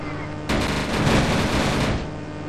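Rapid aircraft gunfire in a flight combat video game, including a Mustang and Spitfire, bursts in loudly as a dense, sustained rattle for about a second and a half before cutting off.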